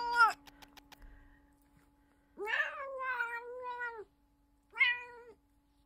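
A cat in the video game Little Witch in the Woods meows several times, close and clear: a long drawn-out meow followed by a shorter one, over a quiet game hum with a few soft clicks.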